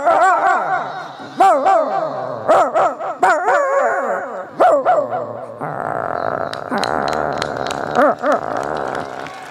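A person's voice mimics a dog, letting out a run of barks and yelping howls, loud and close, with a steadier stretch of voiced howling near the end.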